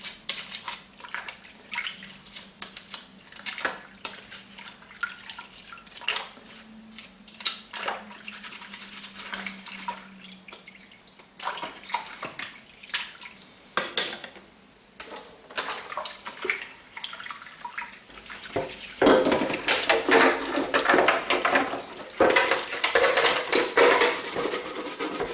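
Vintage Star Wars Millennium Falcon toy parts are scrubbed and swished in hot soapy water, a continuous rubbing and sloshing with splashes that grows louder and busier toward the end.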